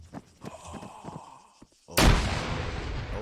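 A frag grenade detonates in a squad-based shooter game: faint clicks and movement, a brief near-silent pause, then one sudden loud blast with a long rumbling tail.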